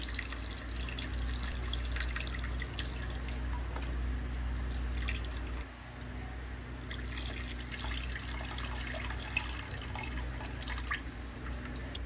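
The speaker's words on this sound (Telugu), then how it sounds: "ఆ తర్వాత మనం ముందుగా పిండి పెట్టుకున్న ఈ చింతపండు రసాన్ని వేసేసుకోండి." Tamarind juice pours into a small-fish curry in a pan, a steady liquid trickle and drip with light splashes throughout, close and moderately quiet with no talking.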